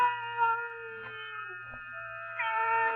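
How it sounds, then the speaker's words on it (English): Mournful cat cries from an old-time radio drama sound effect, long wavering tonal wails that swell and fall over a low hum, close and clear with no voices. "the faint crying of one cat. The crying grew louder and louder."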